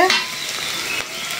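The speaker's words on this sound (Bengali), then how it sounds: "রসুন পেঁয়াজ মরিচটা ভাজা হয়ে গেছে।" Garlic, onion and chili sizzle hard in a frying pan while a utensil stirs them, a short, loud, close burst of hot-oil crackle.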